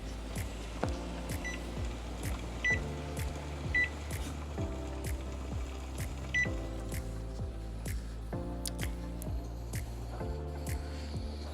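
A pressure cooker on a home hob at the highest heat setting bubbles steadily inside, making a regular rhythm of soft pulses and rattling clicks about every two seconds, close by with no talking.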